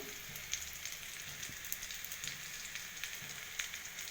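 Spices and masala with potato being sautéed in a pan for biriyani: a faint, continuous sizzle with scattered soft crackles and pops throughout, no talk over it.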